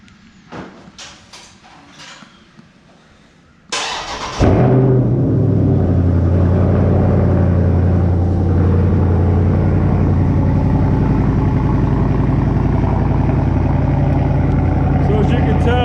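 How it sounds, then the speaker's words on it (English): Car with a mid-muffler delete cold-starting: a few faint clicks, then a sharp crank and a loud, deep exhaust roar that settles into a steady, rumbling high idle close by. "So we'll get it started with a cold start."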